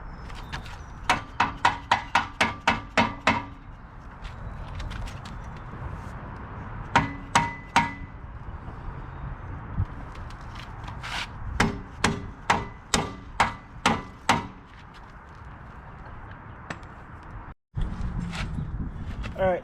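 Repeated sharp hammer blows on a metal tow bar adapter part, coming in quick bursts of rapid strikes separated by pauses, close and loud, with some faint background noise.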